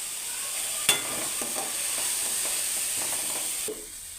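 Chopped carrot and onion sauté in a hot pan with a steady, close sizzle, a sharp utensil clank near the start and a few soft stirring scrapes, no voices.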